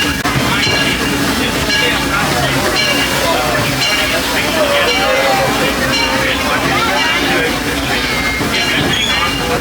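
The rumble and rattle of a moving train fills the clip, with a steady low roar, squeals and chatter of passengers underneath, on a Disneyland train ride.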